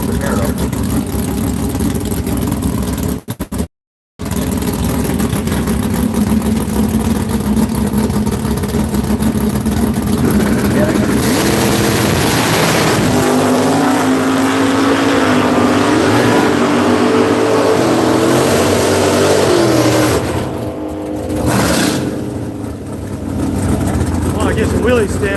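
Camaro race car engines at a drag strip at Seattle International Raceway, a loud sustained roar with a steady rumble that shifts in tone toward the end, with voices talking over it.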